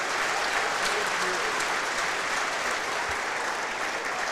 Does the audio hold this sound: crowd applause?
yes